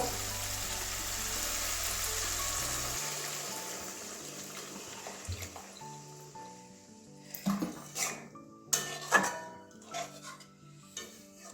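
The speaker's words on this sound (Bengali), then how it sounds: "এবারে জল ঢেলে দেবো" Water poured into a pan of cauliflower fritter and potato curry, a steady rushing pour over a hot pan, followed by scattered stirring clatters and scraping against the pan.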